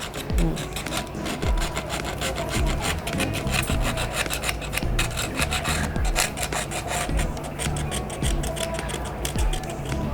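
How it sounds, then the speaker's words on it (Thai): Continuous rasping scrapes as glass fragments are scraped off the frame of an OPPO A16 phone during a screen replacement, with repeated close strokes and no talking. "อันนี้พวกเศษกระจกเราต้องขูดออกให้หมดนะคะ"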